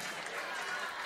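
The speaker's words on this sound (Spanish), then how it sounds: "¡Fuerte los aplausos!" Crowd applause for a centenarian's birthday tribute, a dense, steady wash of clapping filling the short moment at a fairly low level with no break.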